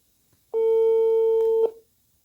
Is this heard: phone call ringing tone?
yes